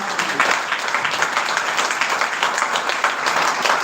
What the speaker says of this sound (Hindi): जोरदार ताली बजाकर परमेश्वर की महिमा